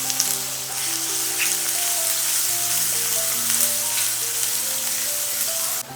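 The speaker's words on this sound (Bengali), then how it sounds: "এরপরে দিয়ে দিচ্ছি কুচি করে রাখা পেঁয়াজ।" Chopped onion frying in hot oil with two bay leaves and a large cardamom pod, a loud, steady close-up sizzle with crackle throughout and a faint hum underneath.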